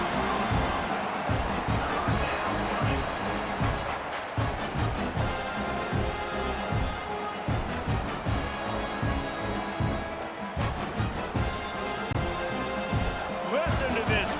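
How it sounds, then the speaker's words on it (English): Stadium crowd roaring at an AAF football game in Denver on third and long: a loud, continuous crowd din with rhythmic stomping and banging, under a commentator's talk. "Listen to this crowd just shaking the girders of this place trying to help their defense"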